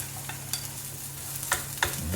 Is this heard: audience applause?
no